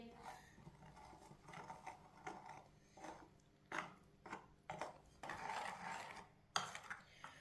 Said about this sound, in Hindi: पानी डाल लेंगे। अच्छी तरह मिक्स कर लेंगे।